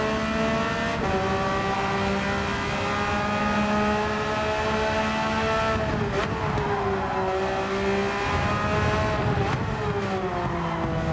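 A Porsche race car in a racing video game, its engine droning steadily at high revs with shifting pitch through corners and gear changes, loud and continuous throughout.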